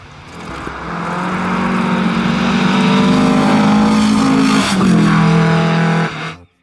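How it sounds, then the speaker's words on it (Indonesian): A classic yellow VW Beetle engine hums loudly and steadily up close, its pitch rising slightly and shifting before it cuts off abruptly at the end. "Suaranya sangat unik karena dia merupakan mobil klasik teman-teman."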